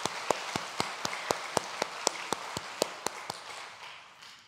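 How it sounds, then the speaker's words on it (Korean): A church congregation claps in slow, evenly spaced unison beats, about four per second, moderately loud in a reverberant hall, then fades into a soft tail. "박수하겠습니다."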